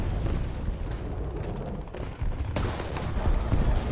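Heavy tank cannon and gunfire from a French tank in War Thunder rumbles through dense, booming blasts and sustained battle noise, loud and close with no talk.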